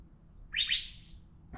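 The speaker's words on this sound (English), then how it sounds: "The birds are talking to me this morning." Wild birds on a morning in Las Cruces give a short, bright burst of chirps near the middle, then begin another call at the end, over a faint low rumble.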